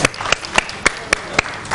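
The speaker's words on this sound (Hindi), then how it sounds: "कंबर के लिए भी बहुत सी तालियां।" Handclaps for Kambar on the set of a Ramadan iftar television broadcast, a few sharp, evenly spaced claps close to the microphone, one roughly every quarter second, with no voices.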